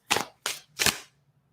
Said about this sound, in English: We'll give it a couple more shuffles.